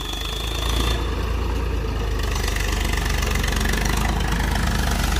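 An aging Eicher 380 tractor engine runs steadily at close range, a continuous low rumble with a rough, knocking texture and no talk over it.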